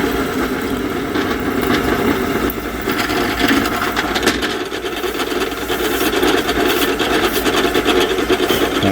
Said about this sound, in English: Nice quiet drill press,